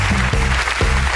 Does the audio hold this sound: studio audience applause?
yes